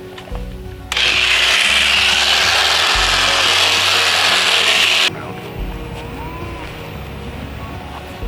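Electric shearing blades, oiled, cutting through an alpaca's fleece, a loud, steady buzzing rasp that starts abruptly, runs for about four seconds and then cuts out, leaving a lower motor hum.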